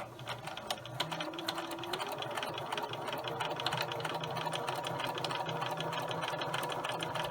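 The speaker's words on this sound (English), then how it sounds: "we're going to go to the sewing machine and we're going to sew along the" A sewing machine stitches along a marked line on pumpkin quilt block fabric, giving a steady, moderately quiet whir with rapid, even needle ticking that runs unbroken throughout.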